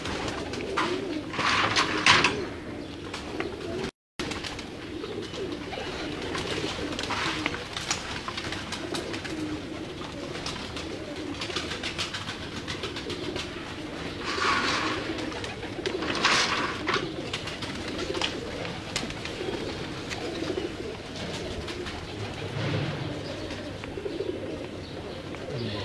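Salaty pigeons kept by a fancier coo steadily and softly, a close, continuous murmur of low cooing with occasional brighter chirps, and a faint voice now and then beneath it.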